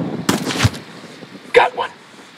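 Sniper rifle fire in Ghost Recon Wildlands: two sharp shots roughly a second apart, the first with a heavy low thump and the second crisper, over quiet game ambience.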